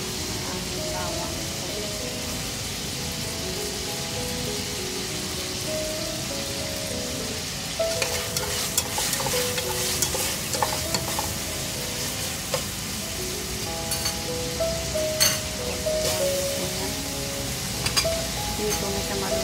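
Garlic and onion fry in oil for a miswa and sardines dish, a continuous sizzle with faint scrapes and clinks of stirring, while a voice talks over it throughout.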